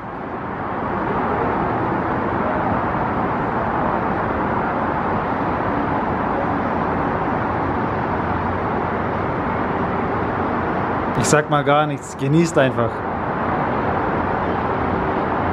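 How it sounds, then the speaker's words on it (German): Dense motorway or expressway traffic heard from a balcony in Turkey, a constant broad roar of many cars at a distance, with a brief stretch of speech partway through. "Hier ist ja die Autobahn oder Schnellstraße. Voll mit Autos."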